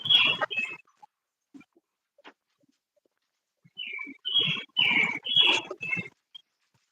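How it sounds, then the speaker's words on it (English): A songbird sings outdoors in bursts of bright chirps and warbled notes, with one phrase, a brief pause, then a denser run of notes, fairly close and with no voices. "that's a singing bird right there"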